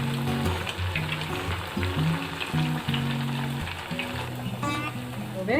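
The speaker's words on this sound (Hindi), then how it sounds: "अब इसको हम नीचे दबा देंगे और अच्छे से इसको सेक लेंगे" Ghewar batter sizzles steadily as it fries in a pan for rabri ghewar, a continuous close crackle with background music running underneath.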